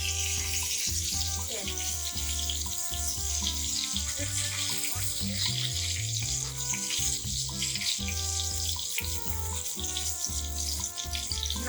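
A pan-tempering for stuffed pointed gourd sputters and sizzles steadily on reduced flame with the cover off, a continuous bright crackling hiss running the whole time beneath louder background music.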